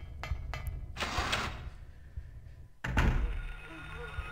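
A door in the Silent Hill video game opens with a couple of short mechanical clunks, then a heavier thud and scrape a couple of seconds later, moderately loud and close in a quiet, low-droning game atmosphere.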